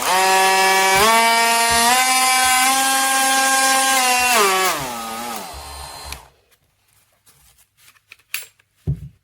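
A SnapFresh 20V cordless six-speed oscillating multi-tool fitted with a diamond-wheel-style cutting attachment runs with a loud, steady buzzing whine that drops in pitch and winds down, followed by near silence and a few faint handling knocks.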